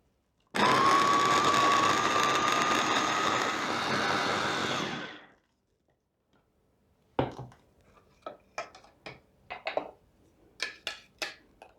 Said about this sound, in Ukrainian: І тепер нам це все треба ретельно перемолоти.